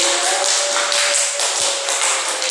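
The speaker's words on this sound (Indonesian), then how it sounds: "Kasih aplaus untuk Ilham." A classroom full of students claps in a steady, dense burst of applause, loud and close throughout, with no voices heard over it.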